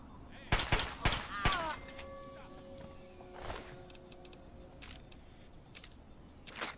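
Chinese assault rifle fire in Fallout 3: a few sharp, close reports in quick succession, then a bright ringing tone and scattered clicks, with a voice faintly underneath.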